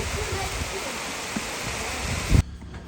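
Constant rushing rain noise with faint voices underneath and a sharp knock just before the sound cuts off abruptly.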